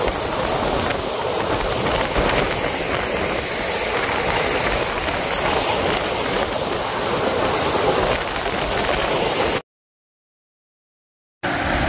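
A local train running from Goalpara toward Guwahati, with loud continuous rumble and rhythmic clickety-clack of wheels on rails heard from inside a carriage, then a sudden cut to silence for a couple of seconds.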